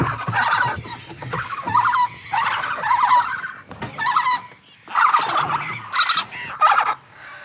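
Young zoo birds give loud, raspy gobbling and clucking calls in repeated bursts, close and clear, with short pauses between the outbursts.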